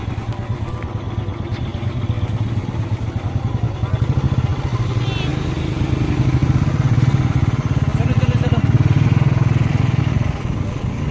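Motorcycle and car engines drone steadily in traffic on the mountain road to Sissu in the Lahaul Valley, Himachal, a continuous loud rumble with a brief horn chirp midway, heard close as if riding among the vehicles.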